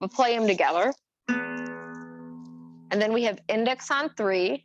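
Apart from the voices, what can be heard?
No distinct noise like a dog, phone or traffic.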